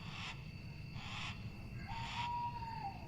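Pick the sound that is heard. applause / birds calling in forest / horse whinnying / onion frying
birds calling in forest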